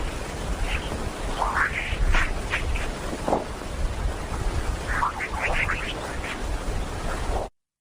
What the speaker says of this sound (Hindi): यह उन डिस्पोज बीप की आवाज है जो सौर तूफानों के जरिए सफर करती है।